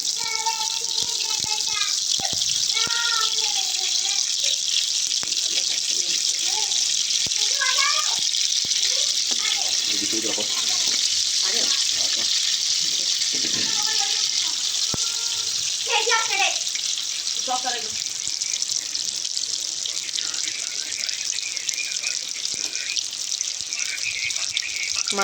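Seekh kababs shallow frying in oil on a tawa, a steady loud sizzling hiss running throughout while someone talks over it.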